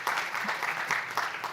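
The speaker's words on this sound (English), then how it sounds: "A big round of applause" A seminar audience applauds, a brief dense patter of many hands clapping at moderate volume, indoors and fairly near.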